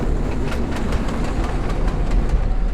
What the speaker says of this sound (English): When the train leaves, I am on board.